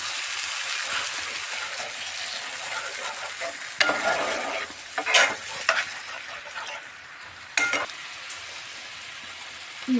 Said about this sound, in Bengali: মশলাটা কষা হয়ে গেছে এবার আমি একটু দইটা দিয়ে দিচ্ছি